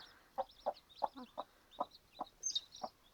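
A brooding hen gives a steady run of soft, evenly spaced clucks beside her nine small chicks, whose high thin peeps chirp over the top, close and quiet.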